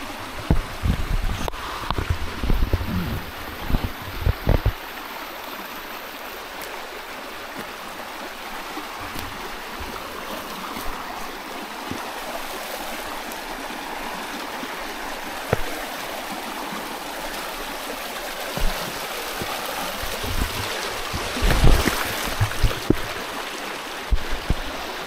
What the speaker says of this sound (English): So I'm here on the river.